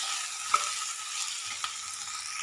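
Washed mushrooms for a mushroom fry being stirred in a pan, a soft continuous sizzle with a couple of light utensil taps, close and quiet, no talking.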